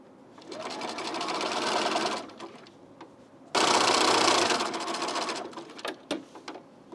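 A sewing machine runs a 2.5 length, 0.5 width zigzag stitch joining a stretched neckband to a T-shirt neckline, in two steady whirring bursts separated by a short pause, then stopping with a few clicks and handling noises.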